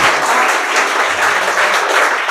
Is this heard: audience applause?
yes